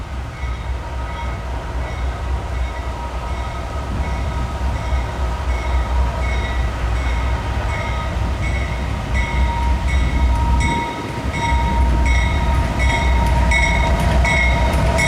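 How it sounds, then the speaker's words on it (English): A Norfolk Southern track geometry train passes close by with a loud, continuous rail rumble, rhythmic clickety-clack of wheels over joints and a whine of wheels on steel, briefly dipping before resuming. "if you ever have the chance to see one of Norfolk Southern's two geo trains, either the brick or the dented brick"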